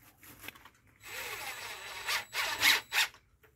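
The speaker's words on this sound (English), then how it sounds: "Pre-setting the screw, so it's a little easier for me." A power drill pre-sets a screw into a deck board. It gives several short whirring bursts of rising intensity that are separated by brief pauses, close and moderately loud, with no talking.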